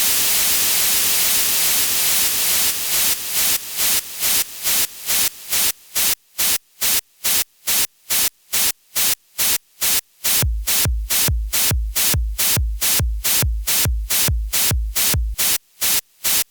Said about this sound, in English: the white noise is sidechained to the kick, so whenever the kick is playing, the white noise is ducking out of the way